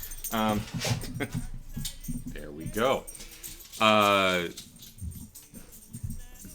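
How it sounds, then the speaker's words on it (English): Two dogs in a studio whimper softly and shuffle about close by, with jingling tags or keys, while people talk over them throughout. "2 studio dogs making their appearance."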